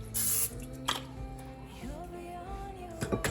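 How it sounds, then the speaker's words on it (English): A short hissing burst of baking spray into an 8x8 pan at the start, then clatter and handling noises of the pan being moved around nearby. "Gonna go ahead and spray it with some baking spray."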